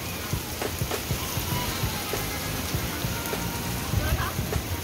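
Steady rain pattering on surfaces after snowfall in Noida, a dense continuous hiss with scattered drops, heard up close with no clear speech.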